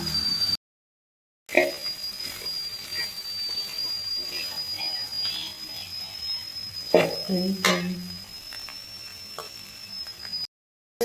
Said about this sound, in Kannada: ಇವಾಗ ಅರಿಶಿನ ಮತ್ತು ಉಪ್ಪು ಹಾಕ್ಕೊಂಡು ಮತ್ತೆ ಇನ್ನೊಂದು ಸ್ವಲ್ಪ ಫ್ರೈ ಮಾಡ್ಕೊತಾ ಇದ್ದೀನಿ